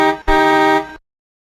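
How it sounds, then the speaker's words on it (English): A car horn honks in two loud, close blasts, the first short and the second held for nearly a second, with nothing else around it. "Hear that honking sound?"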